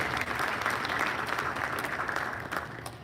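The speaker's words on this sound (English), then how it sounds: "Round of applause for Jeff," A staff presentation audience gives Jeff a round of applause, steady crowd clapping of moderate loudness throughout, with a few sharper individual claps standing out near the end.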